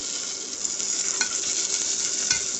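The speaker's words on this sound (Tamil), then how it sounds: "வெட்டி வச்சுருந்த வெங்காயத்தை சேர்த்து நல்லா வதக்கிக்கலாம்" Chopped onions sauté in a pan for Kovai-style rice and dal, a steady broadband sizzle close up with a few scraping stirs, no voices.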